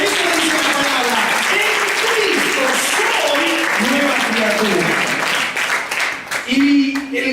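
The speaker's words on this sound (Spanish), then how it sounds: "si vas a aplaudir, aplaudí fuerte" Loud, sustained applause from a church congregation fills the room at an evening Christian gathering, with voices and cheers rising through the clapping before it thins briefly near the end and swells again.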